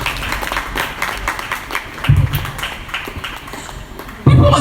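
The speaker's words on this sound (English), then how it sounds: "Clap for yourself." Audience clapping at a business conference, uneven and fairly close, with scattered claps and a louder burst near the end, mixed with murmuring voices.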